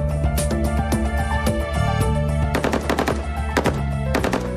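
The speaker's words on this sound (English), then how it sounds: "Then the AK-47." AK-47 assault rifle firing rapid bursts of gunshots, loud sharp cracks in quick succession over a constant background rumble and hum, with no talking.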